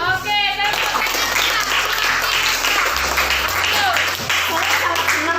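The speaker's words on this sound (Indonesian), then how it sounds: "Oke, tepuk tangan." Students in a classroom clap together in a dense, continuous burst lasting a few seconds, with voices mixed in underneath.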